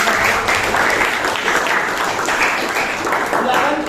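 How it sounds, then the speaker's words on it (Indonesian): A high-school class claps for a student group after a role-play presentation, producing sustained, dense applause from many hands in a classroom, with talking mixed underneath. "Kita beri tepuk tangan lagi buat kelompok 1."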